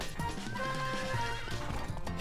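A horse in the Wii game Go Vacation whinnies and neighs over quick hoofbeats and layered game sound effects, loud and busy throughout the short stretch.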